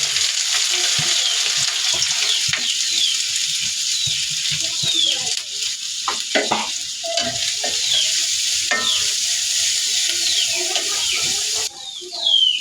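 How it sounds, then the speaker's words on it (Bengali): Chopped onion and green chili sizzle and crackle in hot oil with a constant frying hiss, broken by occasional stirring scrapes, while birds chirp faintly in the background. "এখন আমি পেঁয়াজ কাঁচামরিচটা তেলে দিই।"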